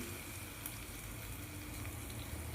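Mustard seeds and cumin sizzle in hot oil for a tadka for raw mango chutney, a faint, steady frying hiss with soft crackles and no talking.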